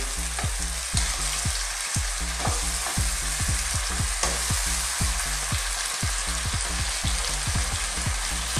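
Sautéed bitter melon and fried fish are stirred in a pan, a spatula scraping in a steady, repeated rhythm over a loud, constant sizzle, close up with no voices.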